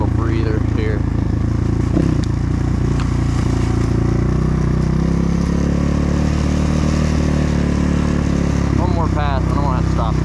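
Kayo K4 250 dirt bike engine running at a steady idle on a muddy trail, a loud continuous low rumble throughout, with people talking over it.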